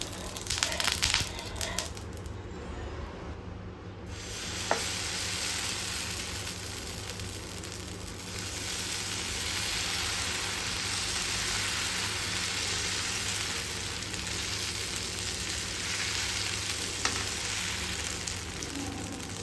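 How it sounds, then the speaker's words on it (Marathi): A dosa sizzles on an oiled dosa pan with a loud, steady frying hiss that runs throughout. Brief rustling and crackles come early, and a few clinks and scrapes break in later. "डोशाच्या साईडने तेल सोडते"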